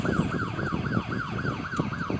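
A police siren on a car in the driving game Mad Out 2 Big City Online wails in rapid, repeating rising-and-falling sweeps, loud and continuous, with no voices.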